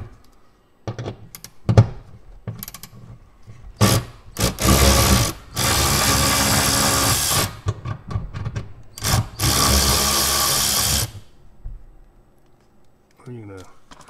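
Ratchet with an extension loosening standard 10 mm bolts on a Toyota Corolla GR with a manual transmission, quick bursts of rapid clicking alternating with longer buzzing runs and a few thunks, close and loud, with a voice briefly between.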